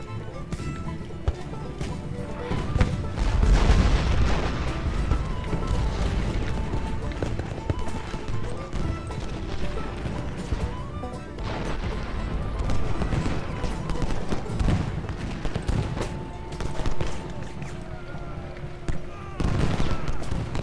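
Booming cannon and artillery fire from a Gettysburg battlefield game, with repeated heavy thuds and crackling gunfire spread through a dense, continuous battle din, mixed with voices talking.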